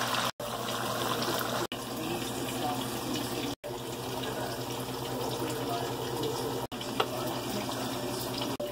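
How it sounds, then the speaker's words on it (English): Tofu deep frying in hot oil, a continuous close sizzle and hiss with no pauses beyond a few brief dropouts. "Okay, let them deep fry."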